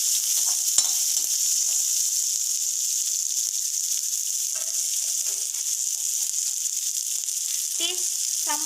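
Onions and curry leaves fry in hot oil with cumin seeds, giving a steady close, bright sizzle throughout with occasional small pops and the clink of a utensil.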